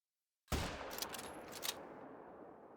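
A single loud rifle shot at a female moose in theHunter: Call of the Wild, a sharp crack out of silence followed by a long rolling echo that slowly fades.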